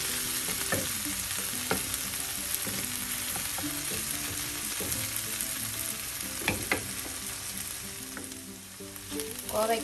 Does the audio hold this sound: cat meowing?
no